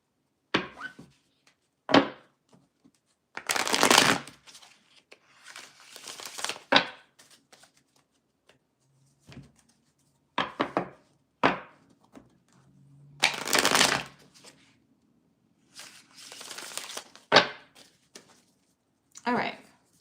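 Tarot cards shuffled repeatedly in bursts of papery riffling and taps, with short quiet gaps between rounds; a voice speaks intermittently throughout.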